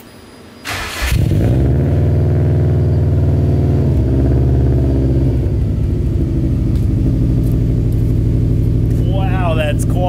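A Subaru engine with a newly fitted exhaust muffler starts up and settles into a steady, fairly quiet idle rumble, close and continuous, with a brief voice near the end.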